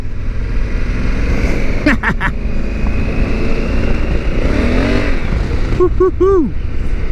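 A roughly 100-horsepower Honda Africa Twin motorcycle rides on a gravel road, its engine droning loudly and revving with rising and falling pitch, with wind rush and some talk over it.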